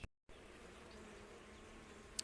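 Honey bees buzz inside a home beehive as they start to explore out of their shipping container. The soft, steady drone follows a brief dropout at the start, and a faint click comes near the end.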